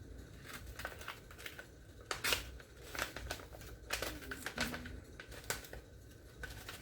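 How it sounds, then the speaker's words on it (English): Paper mail envelopes from Canada being slit open with a handheld envelope opener: a close, irregular run of crisp scraping cuts, rustles and papery crinkles with brief pauses between strokes, and no talking. "Break out my envelope opener."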